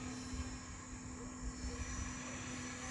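An E-Flite F-18 Hornet 80mm EDF RC jet at half throttle gives a steady, continuous whine and rush with a sustained tone, holding fairly even in level throughout.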